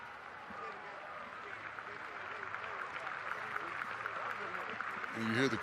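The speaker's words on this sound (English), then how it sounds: "you hear the crowd clapping because he's turned over" Stadium crowd at a Ball State Cardinals vs Northern Illinois Huskies college football game applauding steadily, a dense sustained wash of clapping that swells slightly toward the end.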